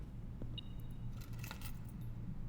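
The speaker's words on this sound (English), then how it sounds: "the car keys, cute" Car keys jangle as they are picked up in the video game Blue Prince, a brief bright metallic clinking cluster over a low steady hum.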